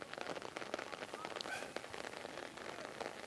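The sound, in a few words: heavy rain falling at outdoor rugby match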